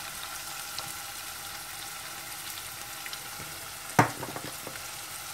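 Tomato paste frying with spices in a pot gives off a soft, even sizzle, broken by one sharp knock partway through and a few light stirring taps after it.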